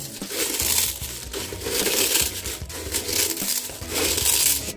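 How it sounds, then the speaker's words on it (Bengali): Masala muri, puffed rice with peanuts and papad, being mixed by hand in a bowl, giving a dry, crunchy crinkling and crushing in repeated rhythmic waves, close and fairly loud, with no talking. "বাদাম পাঁপড় এগুলো ভালো করে দিয়ে এখন মিক্স করে নেব।"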